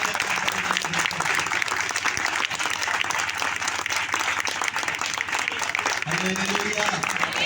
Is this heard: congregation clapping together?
yes